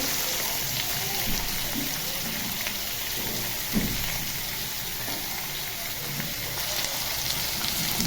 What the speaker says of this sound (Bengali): একে একে আলু, গাজর, বিনস হালকা ভেজে নেব।